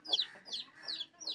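A brooding hen sitting on eggs in a rooftop garden gives four soft, close clucks in an even rhythm, with nothing else audible.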